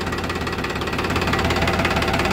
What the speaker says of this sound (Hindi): बिल्कुल एक सार आवाज़ है ट्रैक्टर की।